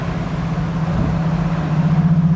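A TVR S3 sports car with a stainless exhaust gives a V8-like note while cruising, a loud steady low rumble from inside the car with a slight rise in pitch, no voices.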